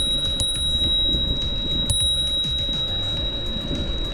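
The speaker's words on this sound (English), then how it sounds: "Hence the bell." A bicycle bell rings on a road bike with a 48-17 gear ratio, a couple of bright metallic dings over steady rolling and wind noise while riding.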